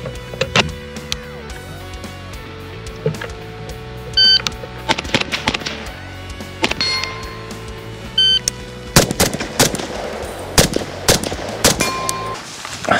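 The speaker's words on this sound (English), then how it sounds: "we're gonna be shooting a Mozambique on that one, two to the chest, one to the head" CZ Bren 2 rifle firing 7.62x39 rounds at targets outdoors, with sharp, loud shots in quick pairs and small bursts, some spaced apart, and steel targets ringing after hits.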